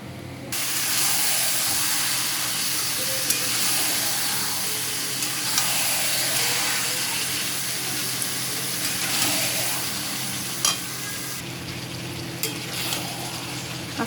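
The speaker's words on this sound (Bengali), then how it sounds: "মাংসের আলু ভাজার তেল যেটা আছে এটাতেই আমি মাংসটা বসিয়ে দেবো" Mutton laid into hot oil left over from frying potatoes, sizzling and frying steadily and loudly for the whole stretch, with occasional spatters and stirring scrapes.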